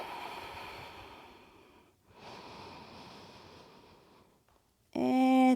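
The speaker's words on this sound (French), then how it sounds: "On respire." Slow, deep breaths during a yoga session in a pose with the pelvis and hips lifted: a long airy exhale fades out, a second breath follows, and then a brief louder tonal sound cuts in at the end.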